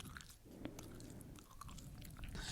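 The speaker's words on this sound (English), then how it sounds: "Just him chewing his gum." A man chews gum close up with soft, wet, repetitive mouth clicks and squishes in an irregular rhythm, faint and alone.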